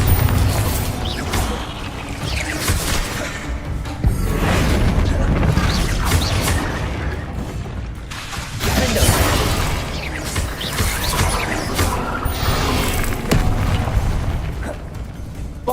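Bombarda blasting spells go off in Hogwarts Legacy, a string of loud, heavy booms with crashing, shattering debris. The blasts come in repeated waves over a continuous rumble, and voices are heard among them.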